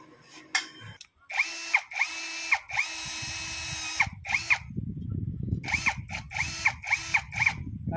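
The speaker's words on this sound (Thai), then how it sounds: "เจาะรูอย่างนี้เลย" Electric drill boring holes during assembly of a panel-washing machine, loud whining bursts that start and stop repeatedly, with ratcheting clicks and rattling between them.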